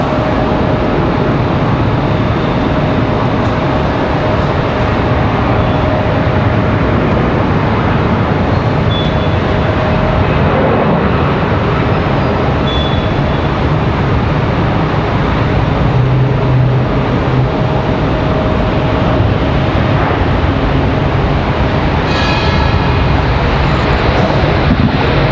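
Airliner arriving at Raleigh-Durham airport on a flight from Washington Reagan, a steady broad jet roar that holds loud throughout, mixed with outdoor wind noise and no talking.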